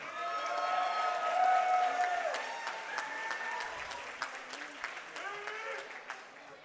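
A crowd at a jiu-jitsu match claps and cheers steadily, with a voice speaking over the applause and some whistles rising through the noise.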